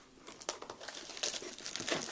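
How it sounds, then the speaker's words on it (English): A plastic wrapper is torn and crinkled off a Boxee TV box, giving a close, steady run of crackling and ripping for about two seconds with no talking. "there goes the plastic wrapper"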